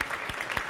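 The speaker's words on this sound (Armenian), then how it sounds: "Ծափահարենք" An audience breaks into applause during a studio game show, a short burst of scattered clapping heard alone at moderate level.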